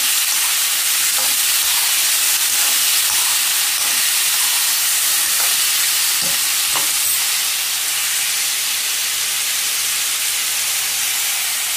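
Pumpkin curry frying in a pan sizzles and hisses steadily, close and loud, with occasional faint spoon scrapes and taps through the continuous sound.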